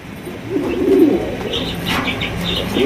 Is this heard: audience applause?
no